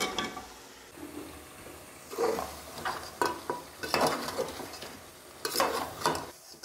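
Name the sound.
stirring beef trotters into fried masala in a pot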